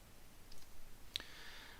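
A single soft mouse click on a computer's Next button, with a faint tick just before it and quiet room tone around it.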